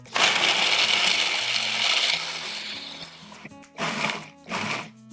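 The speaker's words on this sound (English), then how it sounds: "I'm gonna blend this to a flour type consistency" Kitchen blender grinds dry ingredients into flour for a gluten-free clementine cake, a loud continuous whirring roar for about three seconds that eases off, then two short pulses with brief pauses between them.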